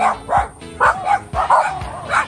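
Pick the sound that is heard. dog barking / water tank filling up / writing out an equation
dog barking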